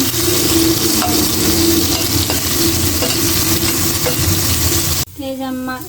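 Prawns frying in hot oil in a home kitchen, a loud steady sizzle with occasional stirring scrapes that runs continuously, then cuts out abruptly near the end as a softer, tonal background takes over.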